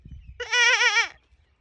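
A boy imitates a goat's bleat with a single loud, wavering, quavering cry lasting under a second, close and clear, after a brief low murmur.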